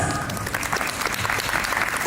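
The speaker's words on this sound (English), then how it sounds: "I need a big round of applause" A school convocation ceremony crowd breaks into loud, dense applause, continuous clapping filling the hall for a couple of seconds with no speech over it.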